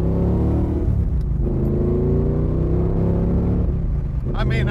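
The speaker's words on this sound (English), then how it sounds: "I'm just touching the accelerator" A 1973 De Tomaso Pantera's engine blipped lightly on the throttle, a loud close rumbling rev that rises, settles and rises again, with a sharper roar at the end.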